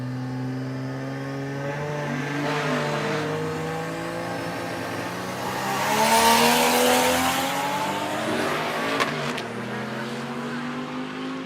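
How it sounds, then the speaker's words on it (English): A drag car with an inline-six engine roars through an open exhaust cutout, its engine note droning steadily and then swelling as it revs harder before settling back, loud and close with no speech. "is that how loud the exhaust is all the time?"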